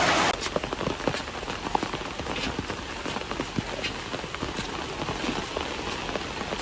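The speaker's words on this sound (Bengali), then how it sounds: "এই যে দেখেন বৃষ্টি পড়তেই আছে" Steady rain falls in a village, spattering densely on nearby surfaces with scattered sharper drops, even and unbroken throughout.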